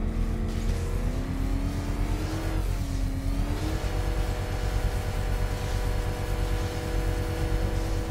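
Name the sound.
car accelerating in a video game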